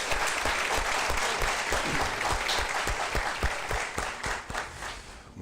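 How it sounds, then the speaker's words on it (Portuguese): A church audience applauds warmly, sustained dense clapping filling the room, easing slightly toward the end with a few distinct claps and faint voices underneath. "Palmas para vocês"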